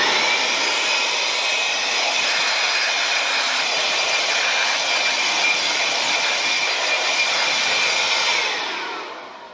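A blower dries off car wheels after cleaning, giving a loud, steady, close-up airy roar that holds evenly for about eight seconds before fading out.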